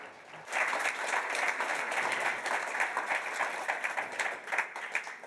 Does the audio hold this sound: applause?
yes